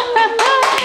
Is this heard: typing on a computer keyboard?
no